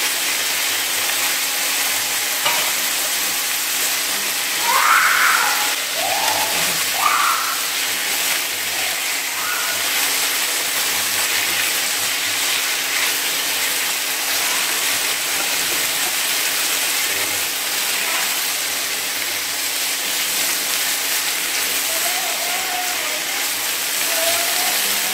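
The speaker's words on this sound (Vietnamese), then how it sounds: "Và bây giờ đảo lửa thật to này." Pork and drained bamboo shoots stir-fry over high heat in a pan, a loud steady sizzle and hiss with occasional scraping and tossing sounds throughout.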